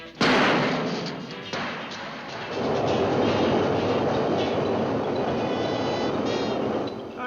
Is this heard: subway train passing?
yes